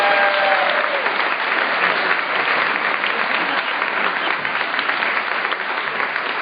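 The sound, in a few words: audience applause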